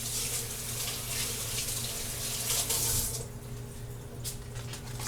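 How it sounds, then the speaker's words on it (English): Tap water runs steadily into a kitchen sink while hands are washed during cooking, a continuous close splashing hiss that eases off slightly near the end. "Sorry, I have to wash my hands."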